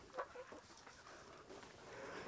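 Soft clucking from chickens, a few brief calls over a faint, steady background noise.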